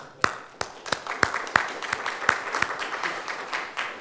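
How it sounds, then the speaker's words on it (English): Audience applause during a technical talk on programming languages: scattered, sharp individual claps that start sparse and gradually fill into a moderate, steady patter. "I just want to give Andy an applause just for that."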